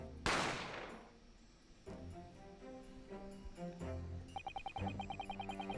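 Gunfire in the video game The Great Ace Attorney Chronicles: one loud, sharp shot bursts out near the start, followed by quieter tonal game music and a run of rapid ticking clicks.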